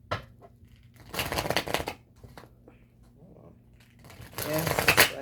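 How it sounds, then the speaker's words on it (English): Tarot cards being shuffled by hand in two riffling bursts, crisp papery flutters close to the microphone, separated by quieter handling sounds and brief talk. "Yes, I know I'm shuffling backwards for a second."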